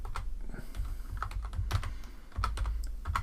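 Rapid typing on a computer keyboard, a close, quiet run of clicky keystrokes with short pauses and no voice over it.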